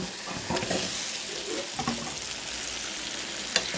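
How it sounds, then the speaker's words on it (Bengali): Eggs go into a pan of sizzling fried spice paste, giving a continuous close frying hiss with occasional stirring scrapes and a sharp tap near the end. "মশলাটা ভুনা হয়ে গেছে, এখন ডিমগুলো দিয়ে দেব"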